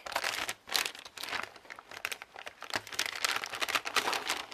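Packaging from a birthday gift is crinkled and torn open by hand, a close, busy run of rustling, crackling and ripping bursts without pause and with no voices.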